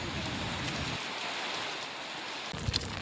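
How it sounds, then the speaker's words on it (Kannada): Heavy rain pours down outdoors as a steady, dense hiss that stays even throughout, with a brief faint knock near the end and no voices. "ಮಳೆ ಸಂಜೆವರೆಗೂ ಇರುತ್ತೆ ಇವತ್ತು"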